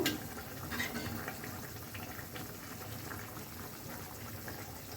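Broth of rohu fish and bitter gourd curry bubbling at a steady simmer, a continuous soft wash of boiling liquid close by with no talk.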